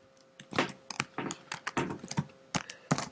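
Rapid, uneven keystrokes on a computer keyboard while writing Objective-C code, closely miked and fairly quiet, with short bursts and brief pauses between clusters of taps.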